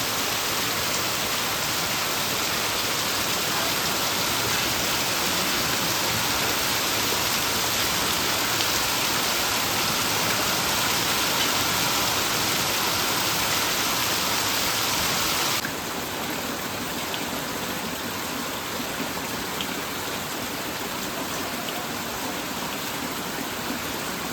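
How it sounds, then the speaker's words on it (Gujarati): Steady, dense rain pours down without pause, a loud even hiss that drops slightly in level partway through but keeps falling with no voices. "બહાર જવું છે કામે, પણ આ વરસાદ હવે રહેતો નથી."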